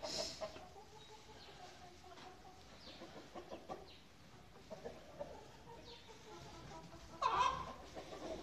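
Chickens in a small backyard coop cluck softly and sporadically, with scattered quiet calls and one louder squawk near the end over a calm background.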